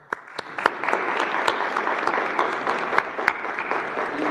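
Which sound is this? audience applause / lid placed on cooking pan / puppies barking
audience applause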